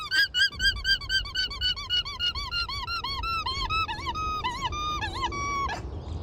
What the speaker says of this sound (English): why did nobody tell me that alpacas sound like this?